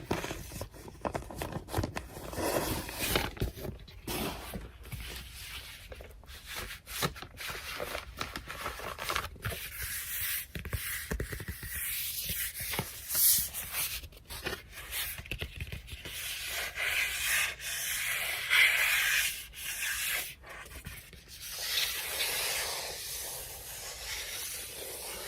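A new vinyl record handled up close for ASMR, with continuous crinkly rustling, rubbing and hissy friction over about 25 seconds and sharp clicks and taps scattered throughout, no voices.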